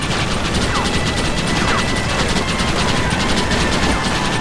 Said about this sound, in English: shoot the barrels! ¡Abran fuego!